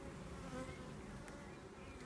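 Agitated honey bees fly around a hive, a dense steady buzzing drone from many insects close by, holding at an even level throughout.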